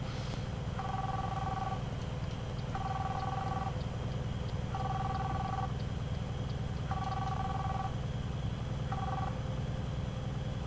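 A phone rings during a call in a Euro Truck Simulator 2 truck cab: five repeated electronic ring bursts, each about a second long and evenly spaced, sound over a steady low engine drone.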